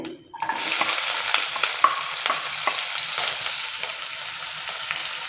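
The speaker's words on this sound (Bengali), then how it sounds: "পেঁয়াজটা দেওয়ার পর ভালো করে নেড়ে চেড়ে নিচ্ছে" Chopped onion hitting hot oil with dried red chilli in a pan, then a dense steady sizzle with scraping spatula strokes as it is stirred, close and loud.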